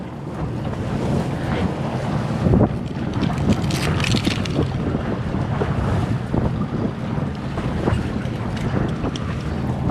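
A fishing boat out on rough, choppy Lake Erie water gives steady, loud wind buffeting and wave slap against the hull, with continuous roar and rumble throughout and no talk.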